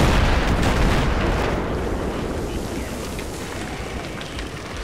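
A large explosion in Battlefield 3's Metro map on Rush mode opens as a loud broad blast, then rolls off into a long rumbling decay that fades steadily.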